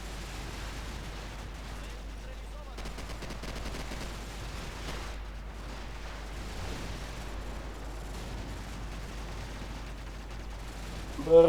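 Faint, continuous gunfire from Call of Duty Modern Warfare 4 multiplayer, with dense rattling bursts and distant explosion-like rumble running steadily under the game soundscape.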